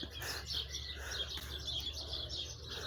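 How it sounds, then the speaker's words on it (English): Small birds chirp and tweet continuously in a home garden, a steady layer of high calls at moderate distance over a low rumbling background, with no talk. "What are the birds doing?"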